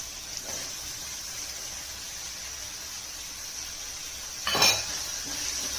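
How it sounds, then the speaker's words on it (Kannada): Steady sizzling of potatoes and peas frying in a pan for tawa pulao, with a brief louder scrape and clatter of stirring near the end. "ಇವಾಗ ನಾನು ಬಟಾಣಿ ಹಾಕ್ತೀನಿ."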